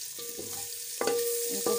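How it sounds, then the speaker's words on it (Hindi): Finely chopped garlic and green chilies fry and sizzle in a pan over low heat, with a steady close crackle and a few soft stirring knocks and scrapes. "अच्छे से ये फ्राई हो गई हैं तो इसमें मैं जो लहसुन और सब्ज़ मिर्चें"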